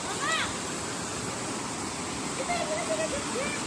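Steady, loud roar of rushing water at Jawili Falls, a constant broadband wash close by, with faint bird or voice-like chirps briefly showing through.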